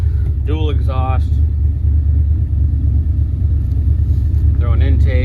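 A 1978 Ford F-250 crew cab with a 400 cubic inch V8 and a two-barrel carburetor runs loud, its deep steady rumble continuous throughout while people talk briefly over it.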